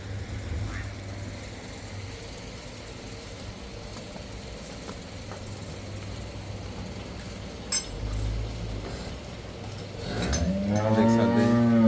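A cow moos loudly and close by on a dairy farm where cows are being sold, a long harmonic call rising near the end over steady low farmyard noise with no talk.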